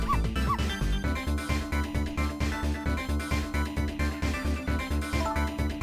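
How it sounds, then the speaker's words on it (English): A dog barks and yips in the video game Ghost Trick: Phantom Detective, with short high calls near the start under steady, rhythmic game music that carries through the whole clip. "If the TV comes on, you'll start barking."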